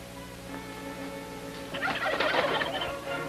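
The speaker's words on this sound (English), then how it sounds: "Wild turkey is almost America's national bird." A wild turkey gobbling in a Christmas episode of the television comedy Topper: a loud, rapid rattling gobble bursts out midway over a faint background hum, fairly close, with no talking.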